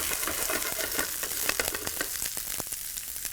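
Broccoli and curry leaves sizzle steadily in a hot pan for a Kerala cashew nut and broccoli stir fry, a close, continuous crackling hiss with sharp popping spits scattered throughout and no voices.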